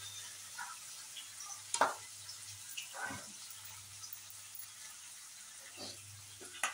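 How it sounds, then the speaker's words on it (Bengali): Potatoes fry in a pan: a faint, low sizzle runs underneath, broken by a few soft scraping stir sounds at irregular moments, with no one speaking. "আলুটা ভাজা হয়ে গেলে আলুটা একটু ভাজার অপেক্ষা রইলাম"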